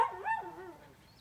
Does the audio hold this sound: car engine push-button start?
no